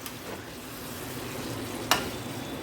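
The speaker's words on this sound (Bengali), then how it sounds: "আমি অল্প অল্প জল দিয়ে দিয়ে এইভাবে কষাবো।" Spice paste sautéing in a pan with small additions of water for a vegetarian Bengali potol dish, a soft, steady sizzle with light stirring and one brief sharp clink near the end.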